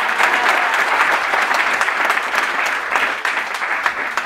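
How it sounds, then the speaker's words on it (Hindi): An audience at a product training meeting clapping together, a loud, close, sustained round of applause with no talking over it. "इसलिए ताली बज रही है।"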